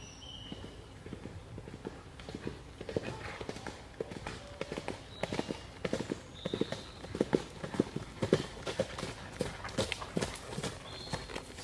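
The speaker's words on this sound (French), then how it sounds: "C'est le cheval qui t'étonne?" Horse hooves clip-clop in an irregular walking rhythm, close and moderately loud, with a few faint high tones drifting over the steps and no talking.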